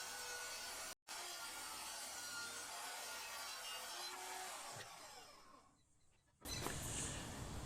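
A saw makes its first test cut into wood in a small workshop, a steady loud rasping that runs for several seconds, drops out briefly near the start, fades toward the end, then gives way to a louder broadband roar.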